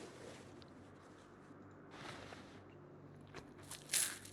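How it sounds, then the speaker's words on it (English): Gum being chewed by a character in the video game Project Zomboid, a few soft, wet crunching bites spread over a few seconds, faint and close, with a sharper bite near the end and no talk. "It also sounds like he's chewing."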